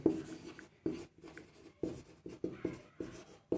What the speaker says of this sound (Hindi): तो हम यहाँ लिखेंगे